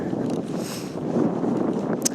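Strong 25-mile-an-hour wind buffets and roars around the microphone in steady low gusts while wild camping in a lavvu tent, a dense, rumbling outdoor noise with no talking.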